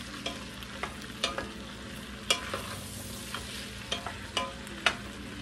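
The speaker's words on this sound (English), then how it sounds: "grab our spoon. We're just gonna give this a good stir." A spoon stirs garlic, onions, carrots, celery and potatoes in a soup pot over a gentle sizzle, with a series of distinct scraping clacks against the pot at irregular intervals; no talking.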